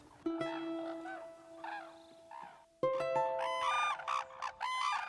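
Cranes in Japan give ringing, trumpeting calls that overlap in two bouts separated by a short pause, clear and moderately close over a quiet background.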